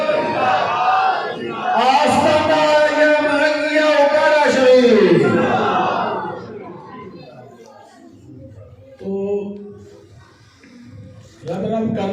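A crowd at a religious gathering roars the takbir response in a loud, sustained collective shout lasting a few seconds, followed by a voice speaking.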